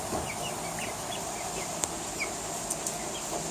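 Several eight-week-old chickens cluck and chirp softly at a distance, scattered short calls over a steady outdoor background hiss with a few faint clicks.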